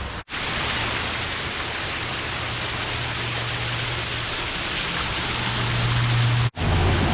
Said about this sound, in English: there's even waterfalls on just like the side of the road here in Michigan